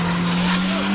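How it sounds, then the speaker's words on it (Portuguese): A car slides sideways, producing a brief, loud squealing whine over rough broadband noise that lasts under a second. "Fudeu, o carro foi pro lado."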